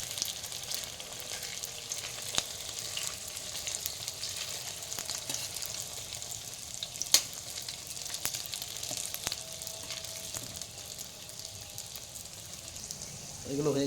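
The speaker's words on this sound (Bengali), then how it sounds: "হালকা হালকা ফ্রাই করবে" Food fries lightly in a pan with a steady, hissing sizzle that runs throughout, broken by occasional sharp clinks of a utensil against the pan.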